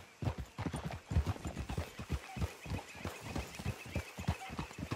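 Horse hooves clip-clopping on a dirt trail in Red Dead Redemption 2, a steady rapid rhythm of many hoofbeats from several horses at a walk, close and continuous with a faint background hum.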